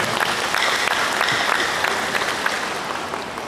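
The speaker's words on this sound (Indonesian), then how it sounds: "tepuk tangan buat kita" Crowd applause at an Indonesian community Halal Bi Halal gathering and anniversary celebration, a dense steady wash of many hands clapping close by for a few seconds with no talking over it.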